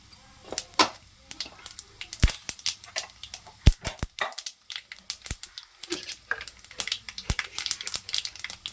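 Dal and mustard seeds crackling in hot oil in a pan, sharp irregular pops and spatters, close and loud, with people talking intermittently around them.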